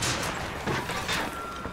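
Gunfire in the video game BioShock Infinite, a run of sharp reports in quick bursts with a loud crack near the start and more shots through the middle, dense and close amid noisy combat ambience.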